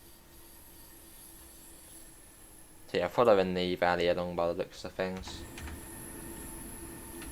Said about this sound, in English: Like we hear a train coming along.